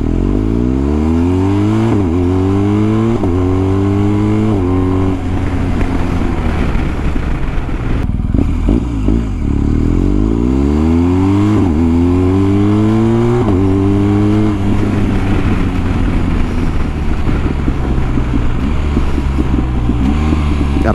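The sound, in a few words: BMW R1250GS motorcycle with BT-Moto stage 1 exhaust revving past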